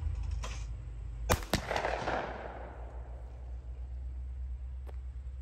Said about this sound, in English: You shoot that gun very well.